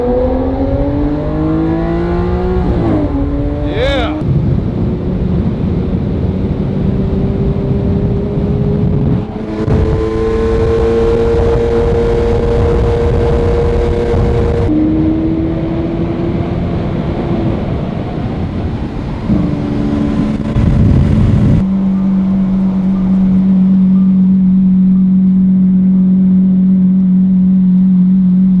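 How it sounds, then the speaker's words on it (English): A Lamborghini Aventador's V12 engine revs hard and climbs through gears on a mountain pass, loud and close, with rising and falling engine pitch and one brief spoken word. "Show people the sound of that V12"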